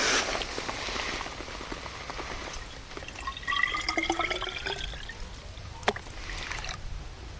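At a campsite, water pours from a titanium container into another vessel, making a faint splashing trickle whose gurgling tone rises as the container fills, set against a quiet outdoor hiss.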